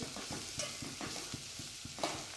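Chopped beet greens sautéed in a pan, with a soft steady sizzle and regular stirring scrapes roughly every quarter second, quiet and close with no talk.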